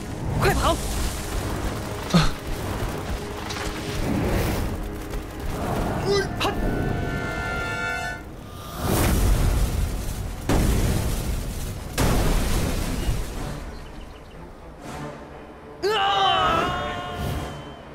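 In the video game Swordsman, an enemy explodes in a sequence of loud booms and bursts, mixed with game effects and a voice, spread across a busy stretch of fighting.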